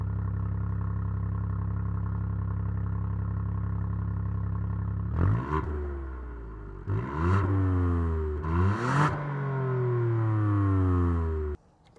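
A 2021 Ford Puma ST idles steadily, then its exhaust barks through three sharp revs that climb and fall back before cutting off, fairly close and with no talking.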